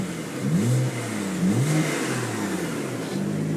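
A 2009 BMW 335i Coupe engine revved in a residential street, several rising and falling throttle blips over a steady idle, loud and close with no talking.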